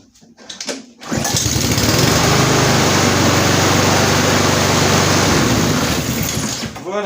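A hot Honda GCV 190 lawn mower engine restarts after a brief pull and fires up at once, running at a loud, steady drone for several seconds with no talk.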